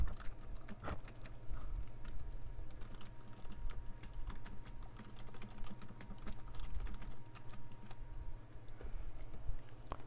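Steady, brisk typing on a computer keyboard, rapid clicking keystrokes in an uneven rhythm, close and fairly quiet, with a low hum underneath and no talking.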